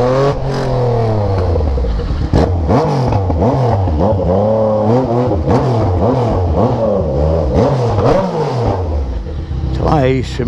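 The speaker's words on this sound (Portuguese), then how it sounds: "escape a tala 3 em 1, com abafador e usando acabamento original" A Yamaha MT-09 motorcycle fitted with an Atalla stainless steel 3-into-1 exhaust with silencer revs and accelerates steadily, its engine note rising and falling in repeated sweeps over the whole stretch while someone talks over it.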